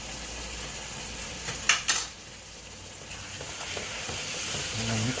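Chicken and vegetables seasoned with paprika and allspice for Caribbean brown stew chicken, sizzling steadily in a pot, with two quick clanks of a utensil against the pot partway through and a soft stir after.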